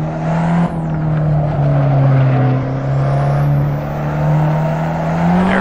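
A front-wheel-drive Fiat 500 Abarth in a racing game drones through a corner with a steady engine hum and tyre noise, pitch wavering slightly as the wheels spin under power.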